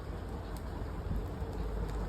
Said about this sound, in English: It's absolutely throwing it down with rain, Cindy.